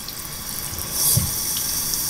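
A cabin bathroom shower aboard the P&O Iona cruise ship runs steadily, a continuous hiss of low-pressure water spraying close by with no voices over it.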